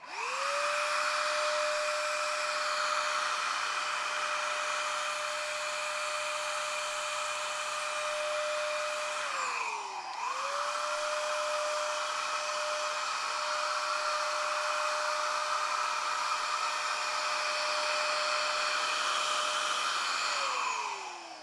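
A cordless handheld motorized disinfectant sprayer whirs steadily in two long runs over a desktop, each winding up to a high, even whine and then spinning down briefly between them.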